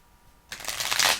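A deck of oracle or tarot cards is shuffled after a brief quiet pause, producing a close, crisp riffling rush that builds and stays loud until the end.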